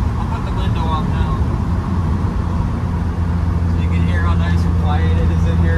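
A 1998 Land Rover Defender 90 TD5 cruising at 60 mph in fifth gear gives a steady low diesel drone with road rumble inside the cab, while someone talks over it.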